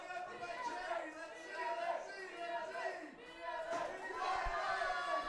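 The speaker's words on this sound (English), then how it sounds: "Got UMass Lowell cheering him on." A college team's crowd cheers on a raw powerlifter at a collegiate powerlifting meet. Dense, sustained crowd chatter and shouting rise and fall over about five seconds, loud and close.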